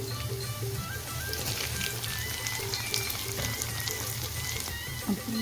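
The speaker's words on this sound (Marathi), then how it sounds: "आपली मिरची परतून झालेली आहे त्यामध्ये आपण जो फ्राय केलेला जो बटाटा आहे तो घालून घेऊया" Fried potato tipped into chillies frying in a pan for sabudana khichdi, giving a dense, continuous sizzle and crackle of hot oil, loud and close, with light utensil clinks.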